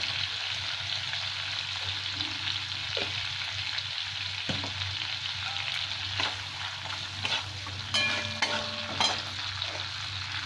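Five-spice seeds and a torn dried red chilli sizzling in hot oil after shrimp frying, a soft continuous crackle with occasional clinks of a utensil against the pan.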